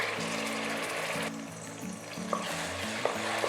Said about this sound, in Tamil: ஸோ இப்போ ஆயில் வந்து ஹீட் ஆகிடுச்சு. இப்போ நம்ம அரைச்சோம் பார்த்தீங்களா, அதை வந்து நம்ம ஆட் பண்ணிக்கணும்.